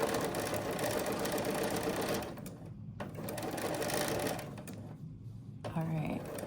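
A sewing machine stitches half-square triangle quilt blocks in steady, fast whirring runs, close and loud, with short pauses between seams while someone talks over it.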